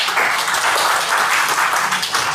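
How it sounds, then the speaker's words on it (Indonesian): Audience applause at a gathering, dense steady clapping throughout, close and fairly loud, no talk. "mungkin sekali lagi boleh tepuk tangan buat kita semua"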